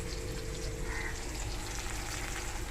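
Bay leaf, dry chilies, cloves and cinnamon frying in hot oil with onion in a clay pot, a steady soft sizzle with faint crackles running continuously, close and fairly quiet, with no talk.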